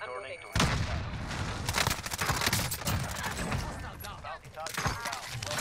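Video-game gunfire in a duos battle royale match, dense volleys of shots crackling continuously after a quiet first half-second, loud and close, with players talking over it.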